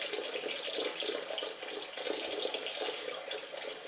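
Water pours steadily from a kitchen tap into a sink during dishwashing, a close, continuous splashing hiss with no talk over it.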